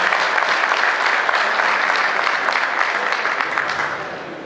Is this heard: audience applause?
yes